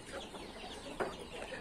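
Carijó chickens, a barred speckled breed, cluck in soft overlapping calls at a farm during heavy rains, faint and somewhat distant, with one sharper cluck standing out amid a steady wash of background noise.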